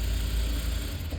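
A sewing machine stitching a hook piece onto a blouse, a steady close mechanical whirr with a low rumble running through the short burst.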